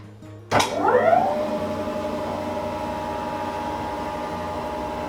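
A Record Sabre bandsaw starts up with a sharp clunk as the brake releases, then a rising whine that settles into a steady motor hum and running drone, heard close with no talking.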